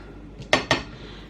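Two quick metallic scrapes of a utensil against a pan while stirring tuna pasta, close and crisp, with a faint knock just before them and low kitchen background.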